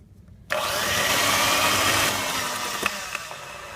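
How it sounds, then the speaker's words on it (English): An electric hand mixer runs steadily through baking ingredients in a bowl, starting abruptly and holding a loud, even whir with a few faint knocks near the end. "I'm using a hand mixer"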